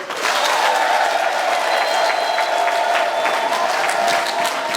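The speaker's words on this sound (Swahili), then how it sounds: "Mpe Mungu makofi." A church congregation claps in praise to God during a bishop's visit, steady close applause with a faint murmur of voices underneath, holding evenly throughout.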